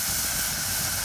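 Stew of soft tofu and chicken simmering in a pot over an open campfire, heard as steady close hiss and bubbling with no pauses.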